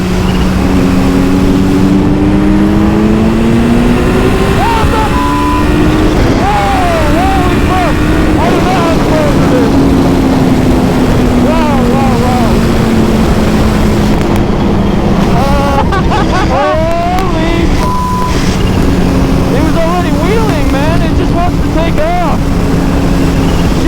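A Kawasaki Ninja H2 motorcycle pulls hard under acceleration, its engine note rising in long sweeping climbs over steady wind roar, with people talking intermittently over it.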